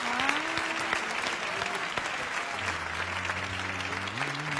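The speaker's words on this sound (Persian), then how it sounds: "تشویق بکنید همه رو" Audience applause at a Quran recitation competition, a dense steady clatter of many hands clapping with a faint voice and some tonal sounds beneath it.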